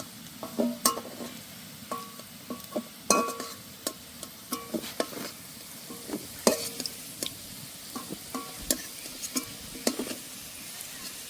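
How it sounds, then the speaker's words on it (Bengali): Potatoes frying in a pan while being stirred, giving a steady close sizzle broken by repeated scraping and clinking of the spatula against the pan, with no talk. "আলুগুলো ভালো করে ভেজে নিয়েছি, আর দেখুন সেদ্ধও হয়ে গেছে আলুগুলো।"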